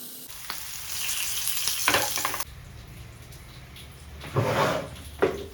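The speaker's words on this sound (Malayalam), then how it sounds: "ഞാനിതാ നമ്മുടെ പൊട്ടാറ്റോനെ ഫ്രൈ ചെയ്യാൻ വേണ്ടി വെച്ചേക്കാണ് കേട്ടോ" Potatoes frying in a pan, a steady close hiss of sizzling oil that swells and fades, broken by brief clatters of stirring and a pan or lid being moved.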